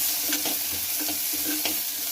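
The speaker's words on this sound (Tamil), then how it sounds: "சின்ன வெங்காயமும் பெரிய வெங்காயமும் சேர்ந்தே அரிஞ்சு வச்சுருக்கிறேன். அதை போட்டுக்கலாம். அதை வதக்கலாம்." Chopped small and large onions sautéing in a pan while being stirred, making a steady soft sizzle with scraping stir strokes at a regular rhythm, close and moderate in volume.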